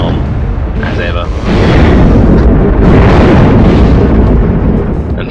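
Gatling gun arm firing in Steambot Chronicles, a loud, dense barrage of rapid booming bursts that swells and stays heavy for several seconds over a busy game din.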